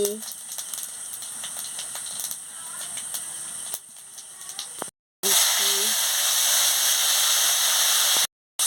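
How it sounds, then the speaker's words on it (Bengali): Panch phoron spices hit hot oil in a pan for a bitter gourd and potato dish, raising a loud, steady hiss and sizzle with rattling crackles, broken by brief silent gaps. "আমি পাঁচ ফোড়নটা দিয়ে দিচ্ছি"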